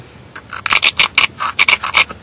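Stone knapped into small arrowhead blanks inside a truck, producing a series of sharp, close scraping and clicking strikes in irregular bursts, roughly ten quick abrasive strokes with brief pauses between them.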